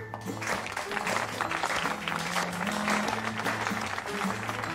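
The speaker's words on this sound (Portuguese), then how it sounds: "Vocês ainda aplaudem esse cara, é?" Audience applause fills the room, a dense sustained clatter of many hands clapping at close range throughout, with no voices over it.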